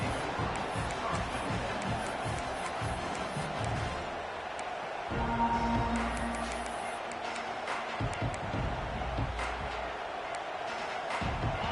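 Stadium crowd at an Oklahoma college football game, a broad steady roar of many voices filling the background without letup, with a few louder swells.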